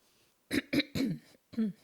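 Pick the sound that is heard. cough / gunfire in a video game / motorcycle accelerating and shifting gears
cough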